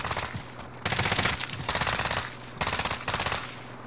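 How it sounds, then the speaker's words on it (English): Rapid automatic gunfire in a multiplayer trios battle royale video game, several loud sustained bursts of rattling shots in quick succession with brief gaps between them. "Where you getting shot at from?"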